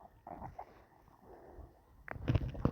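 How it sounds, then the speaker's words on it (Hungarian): A dog whimpers and breathes at close range in a quiet room, soft whining sounds giving way to a louder burst of snuffling and movement near the end. "Hülye kutya."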